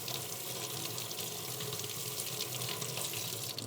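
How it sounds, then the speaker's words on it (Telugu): Tap water runs steadily as an onion is washed under it in a home kitchen, a continuous close splashing hiss with no pauses. "ఆనియన్ కూడా కడిగేసుకుందాం"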